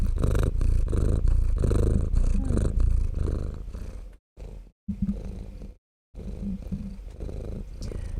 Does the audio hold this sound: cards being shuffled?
no